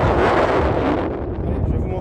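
Strong wind at the shore buffets the microphone in loud, rumbling gusts for a couple of seconds.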